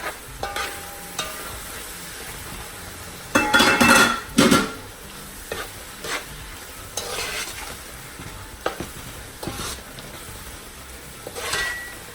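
Vegetables for Nigerian fried rice frying on high heat, with a steady sizzle throughout, broken by louder bursts of stirring and a utensil scraping the pan, close up and with no talking.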